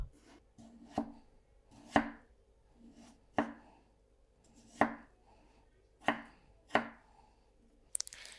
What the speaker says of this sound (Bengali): আলুটা একটু পাতলা করে কাটতে হবে বড় বড় কাটবো একটু পাতলা করে কাটবো